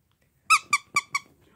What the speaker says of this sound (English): Let me make that squeak.